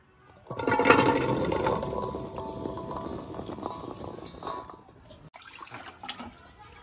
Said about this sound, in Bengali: আগে আমি ভালো করে জল দিয়ে ধুয়ে নেব।